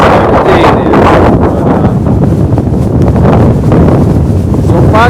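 Strong wind buffeting a microphone on a ridge along the New England Trail on a drizzly day, loud, continuous roaring gusts throughout.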